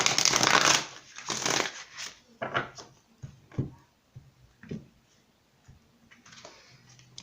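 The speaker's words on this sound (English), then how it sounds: "let's go ahead and pull an emotion card" Oracle emotion cards are shuffled close by: a loud riffling burst at the start, then softer scattered slaps and taps as the cards settle, with quiet gaps between.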